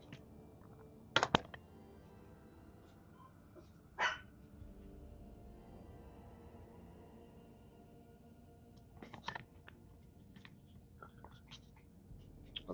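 A dog let into a bedroom gives a few short, sharp barks from close by over a quiet room background, with long pauses between the brief bursts.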